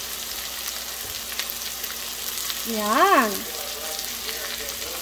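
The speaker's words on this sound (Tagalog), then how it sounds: "Pag nag-brown na ang ating bawang, ilagay na natin ang ating sibuyas." Garlic, onion and ginger sizzle steadily in a hot pan, a continuous frying hiss with a person speaking briefly over it.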